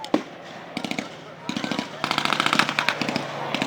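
Rapid bursts of machine gun fire from a Spitfire and German aircraft in a staged aerial battle at a history reenactment show, crackling in quick repeated volleys that grow denser and louder, with distant crowd noise and voices underneath.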